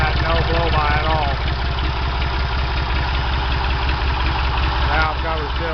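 A freshly rebuilt Ford 335 industrial tractor engine idles steadily up close with an even low chugging rhythm, with speech over it in places.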